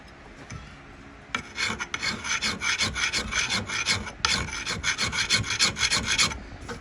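A Michigan-pattern axe head is ground and burnished with steady, rapid rasping strokes that start after a brief quiet moment, then continue loud and close with a short pause partway through.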